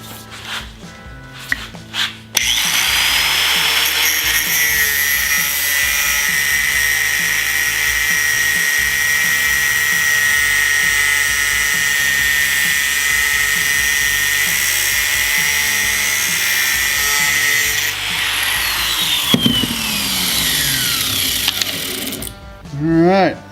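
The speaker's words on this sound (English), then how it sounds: "My cutoff wheel here." A cutoff wheel slicing through metal during a rolling cart repair, a loud, sustained high-pitched whine and shriek lasting about fifteen seconds, with short clatters before it and after it winds down.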